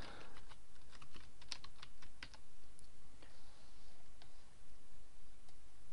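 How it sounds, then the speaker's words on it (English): Someone types on a computer keyboard, a quick run of close key clicks at first that thins into sparser taps over a faint steady room hiss, with no talking. "And then I'm going to type a bit of text in."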